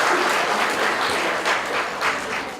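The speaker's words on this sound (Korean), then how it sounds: "여러분 박수로 환영해 주십시오" Sustained, dense applause from an audience at an award ceremony of a car maintenance centre association, steady and loud throughout with no speech over it.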